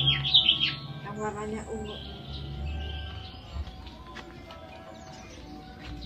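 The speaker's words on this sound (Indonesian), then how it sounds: "tapi burung ini bunyinya luar biasa." A single songbird sings in a home garden, its high chirps standing out early on over a low, steady background while a person talks in Indonesian.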